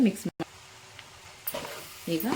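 Paneer fried rice being stirred in a hot pan, with a low sizzle and scraping strokes that come and go in short bursts at close range, without speech.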